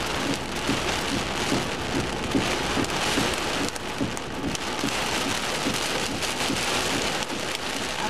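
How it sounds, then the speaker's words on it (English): Hail falling during a severe thunderstorm, a dense continuous pattering and drumming on surfaces outdoors, steady and fairly loud with scattered sharper hits, no voices. "Yep, that's hail."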